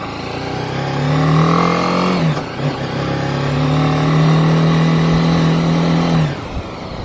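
A BMW G 310 GS motorcycle on a test ride holds a steady, loud engine drone. The pitch dips briefly once midway, then returns to the same level and drops again near the end.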